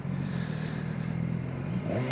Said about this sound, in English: this bike's got a nice sound